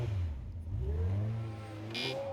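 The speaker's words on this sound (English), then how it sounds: "Listen to the little Honda sing through the mud." Supercharged Honda K24 four-cylinder in an extreme 4x4 challenge vehicle, revving hard through mud, a steady loud engine drone with rising and falling pitch and no talking.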